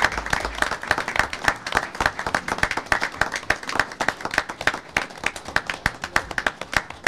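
A room at a county board meeting breaks into sustained applause for a commendation recipient, dense rapid hand clapping from many people at steady volume for several seconds.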